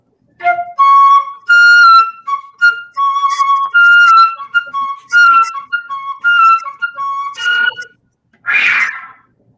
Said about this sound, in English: That jet whistle.